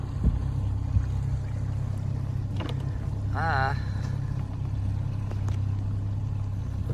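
A Tracker Pro 170 boat with a 40hp Mercury outboard runs at steady speed, a constant low engine drone with wind and water wash, with a brief voice partway through.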